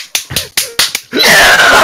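A voice imitates clapping with a series of sharp mouth-made smacks and snaps, about five quick beats, followed by a burst of loud noisy hiss like crowd cheering.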